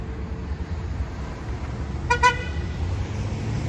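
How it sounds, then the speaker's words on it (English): A car horn gives two quick honks on a rainy New York City street, set against a steady low rumble of traffic. "What are you honking at?"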